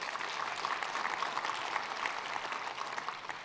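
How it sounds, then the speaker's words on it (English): Steady, even crowd applause at a campus energy conference plenary, many hands clapping at moderate distance, fairly quiet and unbroken throughout with no talk. "Let's give them a nice round of applause."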